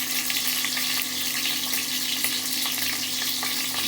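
Prawns coated in salt and turmeric sizzle and spit in hot oil for a prawn malai curry, a steady close frying hiss with small crackles and no talking.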